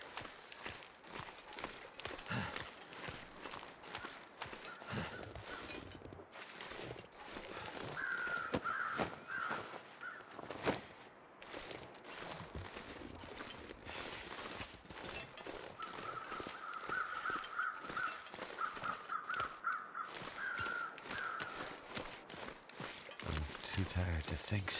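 Crows caw repeatedly in scattered bursts in the video game The Long Dark, over a busy background of footsteps and movement, with a person talking throughout.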